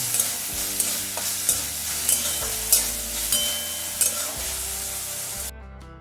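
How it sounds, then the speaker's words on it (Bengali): Peas and chopped onion sizzle in a pan for a vegetable chicken soup and are stirred with regular scrapes of a spoon about once a second, loud and close over steady frying noise, then the sound stops abruptly. "এরপর মটরশুঁটি দিয়ে দিলাম, কেটে রাখা পেঁয়াজ, হালকা একটু নাড়াচাড়া করে নেব।"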